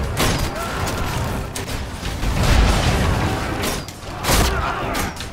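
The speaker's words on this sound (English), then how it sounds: "it's catapult fire" Catapults fire in the Roman combat game Ryse, with heavy rumbling booms, mechanical creaks and thuds layered into a dense, loud battle din that swells and recedes over several seconds.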